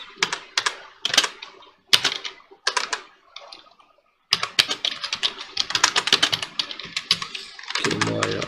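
Fingers type on a computer keyboard at close range in a music production session, rapid bursts of key clicks with short pauses, ending with a faint sustained tone.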